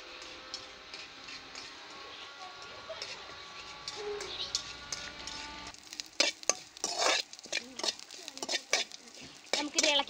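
Curry is stirred in a pan, the spoon scraping in quick rhythmic strokes against the metal amid a light sizzle, with a voice talking early on.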